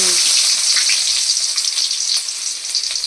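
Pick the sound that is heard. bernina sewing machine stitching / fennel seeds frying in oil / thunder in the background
fennel seeds frying in oil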